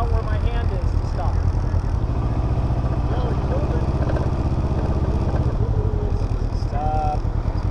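A Can-Am Ryker three-wheel motorcycle rumbles close by in Austin, Texas, its engine a steady throaty drone that pulls away smoothly, with people talking over it.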